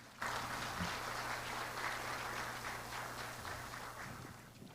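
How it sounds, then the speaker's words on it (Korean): An audience at a university education forum claps to welcome the university president, a dense, even wash of applause from a large hall that starts abruptly and slowly fades, with a low steady hum beneath. "총장님을 큰 박수로 맞이하여 주시기 바랍니다"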